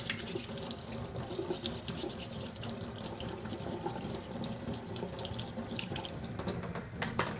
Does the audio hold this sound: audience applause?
no